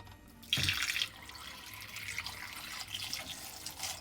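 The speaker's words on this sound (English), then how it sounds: "I'm gonna pour water into this chestnut here" Water splashes out in a quick pour onto chestnuts for oven roasting, then trickles and gurgles quietly into a container, close by and fairly soft.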